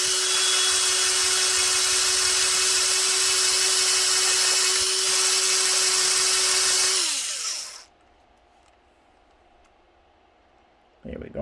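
A power tool spins a Tamiya Mazda RX-7 R1 model car tire against sandpaper, a loud steady high whine that winds down and cuts off, leaving near silence before a brief knock.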